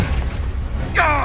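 A Confringo blasting spell in Hogwarts Legacy goes off as a loud, low, rumbling explosion that sustains throughout, with a brighter whooshing swell near the end.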